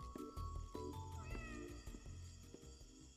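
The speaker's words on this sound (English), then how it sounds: "This cat's still meowing, dude." A cartoonish cat meows repeatedly in the video game Indigo Park, drawn-out caterwauling cries layered over game music and low rumbling, fairly quiet overall.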